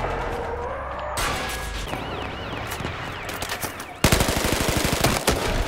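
Rapid automatic gunfire from Battlefield Hardline, with bursts and single shots starting after a quiet moment, then a loud, sustained rattling volley near the end. Distant shots and the clatter of combat fill the scene.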